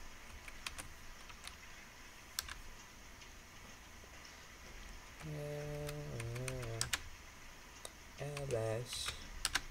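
Keys tapped on a computer keyboard while a username and password are entered, a light scattered clicking spread across the clip, with a voice briefly speaking in the middle and near the end.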